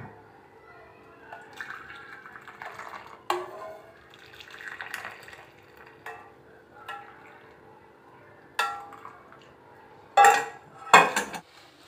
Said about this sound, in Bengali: এবার চাটা ছেঁকে নিই।